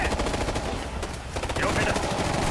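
Rapid automatic gunfire from a firefight in Ghost Recon Future Soldier, bursts of close, sharp shots rattling in quick succession with a brief lull midway before firing resumes.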